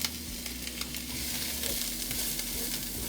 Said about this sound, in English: now the pot is heated, and I'm gonna put the onion in